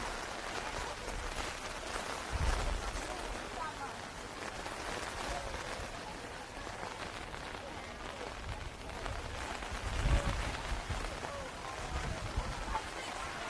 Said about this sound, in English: So umpires and then maybe the rain will stop.